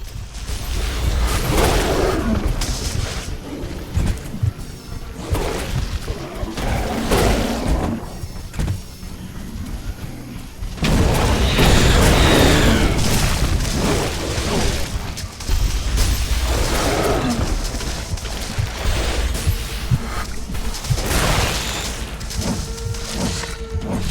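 Explosions and crashing blasts tear through a creature nest in The Riftbreaker, with heavy booms and rumbling debris bursts over a continuous dense game soundscape, loudest in a big surge midway.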